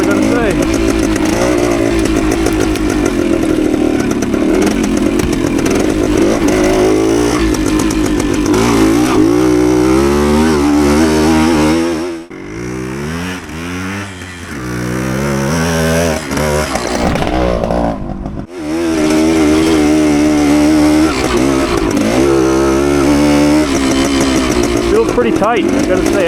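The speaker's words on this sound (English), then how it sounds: "Engine's pulling strong." A 1972 Suzuki TS185 motorcycle engine running while being ridden, a loud, steady buzzing drone that dips briefly twice as the revs change, with someone talking over it.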